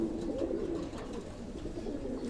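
An old pair of pigeons cooing in a home loft, soft repeated low coos close by over a quiet background.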